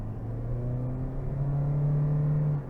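A Toyota Corolla Cross hybrid accelerates from inside the cabin, a steady low engine drone that rises gradually in pitch, with no talking.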